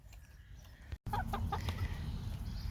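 Hens cluck in short bursts nearby on a hot day, over a steady low rumble of background noise.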